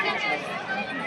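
Dense crowd of pilgrims at Bhairavnath temple on the Vaishno Devi route near Katra, Jammu, a continuous close babble of many voices and shuffling movement, brief and fairly loud.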